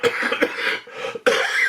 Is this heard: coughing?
yes